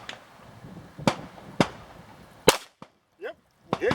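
Handgun gunshots during a shooting lesson: several sharp cracks spaced about half a second apart, close and loud, followed by quieter clicks and brief talk.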